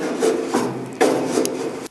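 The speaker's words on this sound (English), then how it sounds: "Now you can see that the filing is pretty much complete in the contoured area on the inner front fender" Half-round bullnose file rasping over lead body filler on the contoured inner front fender of a car, two long strokes each with a rougher scraping return, close and fairly loud with no talk.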